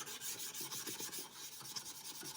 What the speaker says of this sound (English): you're just gonna rub this stone back and forth